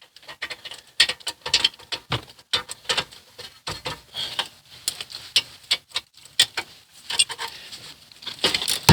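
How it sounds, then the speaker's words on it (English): Car brake caliper bracket bolts being worked loose with a wrench during a rotor and brake pad change: a close, irregular run of sharp metallic clicks and ratcheting ticks, quick bursts with short gaps, no talking. "we're going to take just the caliper bracket loose."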